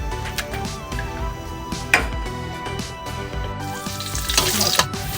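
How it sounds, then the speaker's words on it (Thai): Garlic frying in a little oil in a pan, a soft continuous sizzle broken by light clinks and stirring taps, with faint background sound running underneath. "จากนั้นก็ใส่กระเทียมของเราลงไปค่ะ"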